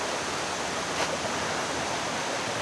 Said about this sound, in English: that's the Cuyahoga River up in there. Comes down here and goes into the falls